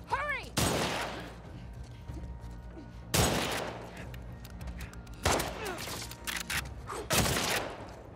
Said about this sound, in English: I need you to refrain from shooting me with the shotgun